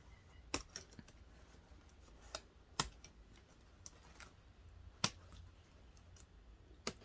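Scissors snip zip ties off the back of a shamrock ribbon wreath, giving a series of sharp, isolated clicks and snaps spaced irregularly over a faint background hiss, with no talking.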